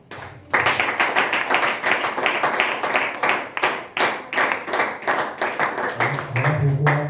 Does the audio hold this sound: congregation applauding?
yes